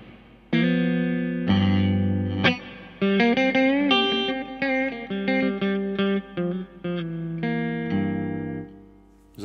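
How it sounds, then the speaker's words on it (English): Sustained electric guitar chords and melodic notes ring out through a Colortone Roundhouse pedal's reverb, a soft wash trailing behind each phrase, played steadily with no voices. "You want just a little bit of reverb just to have it in the background for now."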